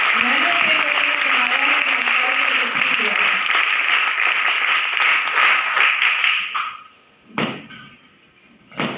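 Audience applause welcoming presenters at a school event honouring Indian Army soldiers of the 1971 victory, loud continuous clapping with a voice speaking over it, then dying away into a few isolated claps.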